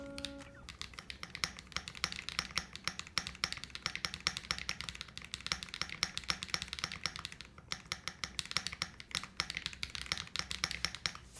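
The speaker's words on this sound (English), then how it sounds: "I am going to take it off just to see what these sound like." Dense, rapid typing on a Zoom65 mechanical keyboard with plate foam and its spacebar gaskets removed, a steady stream of close, crisp keystroke clacks with occasional heavier spacebar thocks, no voices.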